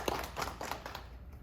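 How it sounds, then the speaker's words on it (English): Faint, sparse clapping from a small audience at a chamber of commerce junior board presentation, a handful of claps in a loose rhythm that tapers off after about a second. "let's give a round of applause for Ms."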